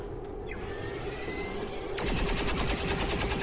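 Beam cannon weapon fire in the XCOM 2 video game: a loud, sustained rapid pulsing burst that kicks in midway after a rising charge-up whine, with dense repeated crackling impacts continuing to the end.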